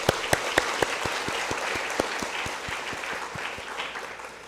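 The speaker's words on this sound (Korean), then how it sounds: "우리 식구님 모두 응원의 박수 크게 보내주시기 바랍니다." A church congregation applauds at an installation service, opening with a few sharp, loud individual claps before settling into softer, steady group clapping that gradually thins out.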